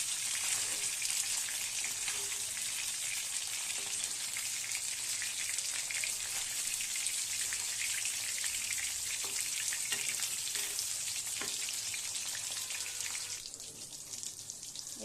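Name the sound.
frying fish in a pan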